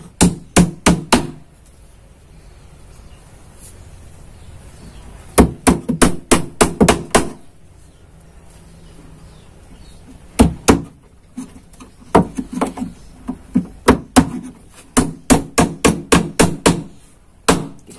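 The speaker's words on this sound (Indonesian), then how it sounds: "Kita paku." Nails hammered into a wooden box for shipping chickens, sharp wooden knocks in quick bursts of several blows separated by quiet pauses, close and loud.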